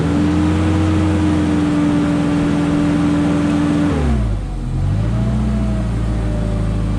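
A Ford LRG 425 engine on a Genie S40 boom lift idles smoothly and steadily with a constant hum, then drops in pitch briefly as it slows before settling back to an even run, heard up close and alone.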